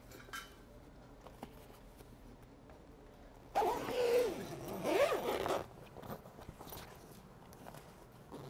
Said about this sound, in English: You will want to zip this up as well.